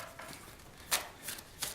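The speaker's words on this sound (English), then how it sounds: "they're quite easy to shuffle, depending on. But then they shuffle smoothly." Les Vampire tarot cards are shuffled by hand in a few quick, soft riffling bursts, close and fairly quiet.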